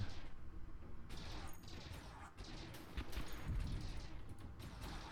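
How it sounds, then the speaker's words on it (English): Chaotic space battle noise in the game Stardrive 2, with repeated heavy booms and blasts of anti-mana cannons firing in rapid succession, layered over a dense rumbling background. "it's nice to know the anti-mana cannons are doing their thing"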